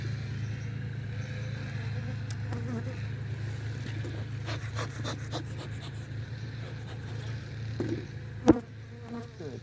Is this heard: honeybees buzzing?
yes